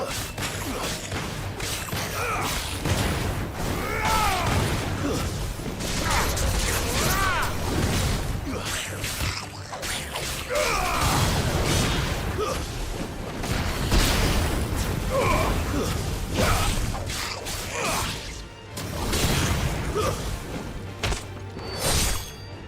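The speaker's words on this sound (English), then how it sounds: "Here's an example of a combo that I've been practicing for the start of each encounter." Combat combo attacks in Final Fantasy XVI, a dense run of whooshing swings, crashing impacts, booms and magical effects layered over game music, with a narrating voice at times.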